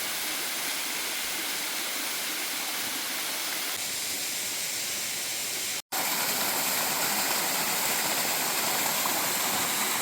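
Cloudland Falls on the trail up Mount Lafayette pours with a steady, dense rush of water that fills the whole scene, broken only by a brief cut in the middle.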